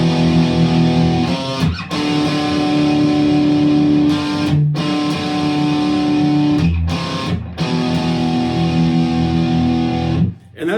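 Loud, distorted electric guitar plays a classic rock riff in dyad chords, with a driving rhythm of sustained, crunchy chords broken by brief muted gaps, all without any voice over it.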